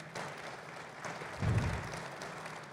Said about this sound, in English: Let's give Dr. Kelly and the Division of Student Affairs another round of applause.